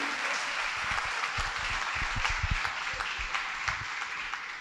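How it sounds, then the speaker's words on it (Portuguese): Sustained applause from an audience at a business talk on tax reform, a dense, steady wash of many hands clapping at an even level for several seconds, with no voices over it. "uma salva de palmas"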